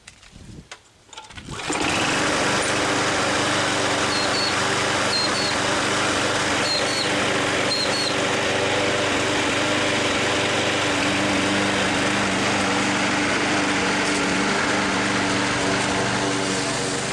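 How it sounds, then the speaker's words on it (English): A small Briggs & Stratton engine starts after a brief pause and then runs steadily at a loud, close, even drone with a buzzing rattle, with no pauses for talk. "So an amazing motor, this little Briggs & Stratton."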